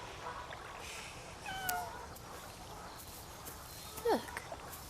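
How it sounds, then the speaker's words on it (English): A single short cat meow rises out of quiet outdoor ambience near the end, faint and somewhat distant, with no talking. "Oh, a cat, so?"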